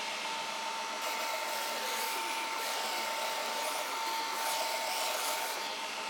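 Shop Master 72-inch belt grinder running with a slack belt, a continuous loud whirring rush with a steady tone and faint grinding texture, unbroken throughout and free of speech.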